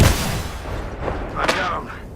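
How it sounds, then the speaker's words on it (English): A grenade explodes during a video game match: a heavy, close boom opens, then a second sharp blast bursts out about midway, at moderate loudness with no talking. "Incoming grenade."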